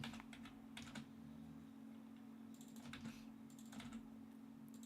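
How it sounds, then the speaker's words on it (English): Computer keyboard typing comes as scattered light key clicks in short bursts over a steady electrical hum, faint and close, with no voices. "I'm just typing sub there"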